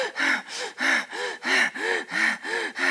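Someone demonstrates sharp gasping chest breaths. Eight quick, rhythmic inhalations repeat evenly, close and fairly quiet, with no talk.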